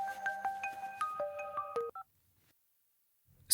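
A new mobile phone playing a ringtone: a rapid run of bright electronic tones in a stepping melody, clear and close, which cuts off abruptly and leaves near silence.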